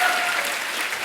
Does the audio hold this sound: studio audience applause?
yes